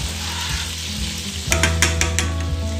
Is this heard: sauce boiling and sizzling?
yes